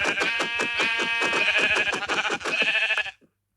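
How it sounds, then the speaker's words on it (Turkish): Sheep bleat in a rapid, wavering series, loud and close, running steadily for about three seconds before stopping abruptly. "Aa bak koyun var."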